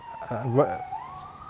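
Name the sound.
police and ambulance sirens on a nearby main road in the UK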